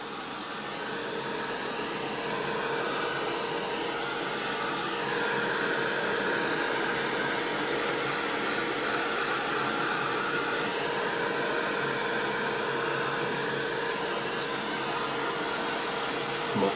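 A hair dryer blows steadily on wet paint across a painted doll artwork, a loud continuous airy whoosh with a broad hiss that holds constant throughout, with no talking.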